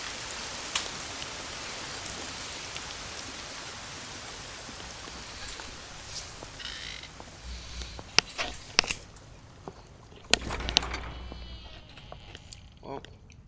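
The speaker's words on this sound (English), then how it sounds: "Oh, great. It's raining." Rain falls steadily in the video game Lost Odyssey, a dense hiss running throughout, joined by sharper clicks and thuds near the end as a person talks over it.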